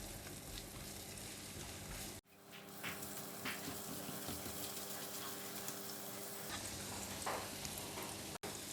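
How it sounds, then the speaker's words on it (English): Garlic and ginger stir-fried in oil over medium heat in a pan: a continuous close sizzle with brief clinks of stirring, one abrupt cut partway through, no speech. "Stir fry these 2 ingredients together until they're fragrant."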